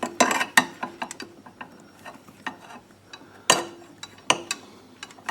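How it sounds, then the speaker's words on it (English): Metallic clicks and clinks come from a Corbin spring hose clamp being squeezed and slid back along a fuel hose on a Predator 3500 generator, a sharp close-up burst early on, then scattered lighter ticks and a few louder snaps. "You just squeeze the 2 tabs like that, and then the Corbin clamp is loose"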